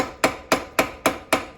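A fairly heavy hammer strikes a rivet on a Dinky Jaguar toy car six times in steady rhythm, each blow a sharp, close, ringing metallic clank with a short decay.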